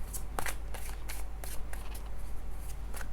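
Tarot cards shuffled by hand in a series of quick riffling bursts, about seven crisp rustles spaced evenly, close and fairly soft with no talking.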